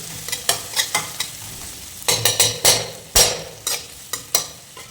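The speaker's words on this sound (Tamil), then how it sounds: "இன்றைக்கி புளி சாதத்தில் அப்படியே மிக்ஸ் பண்ணுறேன்" Tamarind rice being stirred and mixed in a pan, a string of distinct scraping and tapping strokes from a spoon against the metal over a faint sizzle, in uneven bursts.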